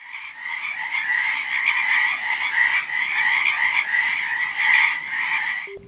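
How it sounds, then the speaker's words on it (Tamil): A loud, dense chorus of frogs croaking and trilling continuously, many voices overlapping in a steady throbbing drone, close and unbroken. "ராஜ்குமார் ஆசைப்பட்ட மாதிரியே தவளைகள் ரீங்காரம் பாடுறதை கேட்க வச்சிருக்காரு வீரப்பன்."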